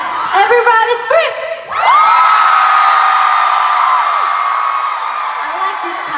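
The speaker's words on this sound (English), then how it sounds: "Everybody scream!" A concert crowd at a show in Dallas erupts into loud sustained screaming and cheering, with high shrieks rising and holding for several seconds after a brief shout on stage.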